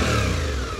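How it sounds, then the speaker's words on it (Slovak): A Suzuki V-Strom 800DE motorcycle, a 2023 adventure bike with a large rear muffler, runs at idle, a steady low engine drone heard close by and alone for under a second. "Krásny štart a tichý vlastne prejav na voľnobehu."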